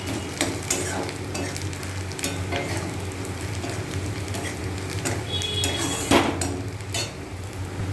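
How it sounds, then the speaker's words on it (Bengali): Onion fries in a pan with a constant close sizzle, while a spatula stirs and scrapes against the metal with irregular clanks and knocks, one louder scrape standing out near the end. "পেঁয়াজটা ভাজা হয়ে এসে এবার এই মশলাটা দিয়ে দেবো"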